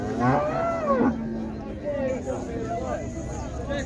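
A cow, a recently calved one at a cattle fair in Águas Belas, Pernambuco, gives a long, close moo, then a couple of shorter, wavering moos follow over faint background noise.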